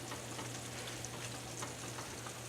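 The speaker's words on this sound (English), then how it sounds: "We're gonna go ahead and let this fry down." Chicken fries in a pan with a steady, dense sizzle at low level, an even crackling wash running unbroken throughout with no voices.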